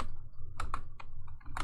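A few quick key clicks on a computer keyboard as a command is typed into a terminal, sparse taps in small clusters, close and fairly faint over a low steady hum.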